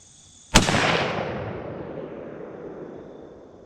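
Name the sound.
gunshot from a 350 Legend rifle at 100 yards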